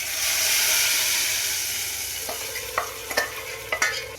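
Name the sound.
mustard seeds and cumin sizzling in hot oil in kadai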